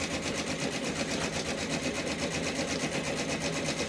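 OESD Christmas Flight tiling scene being stitched on an embroidery machine, a steady, rapid mechanical chatter of the needle at constant speed, close and continuous with no pauses; no talking.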